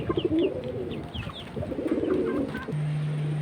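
Pigeons in a breeder's loft, including silver and sapchila birds, coo in soft repeated rolling phrases at close range, over a low background hum. A steady tone enters near the end.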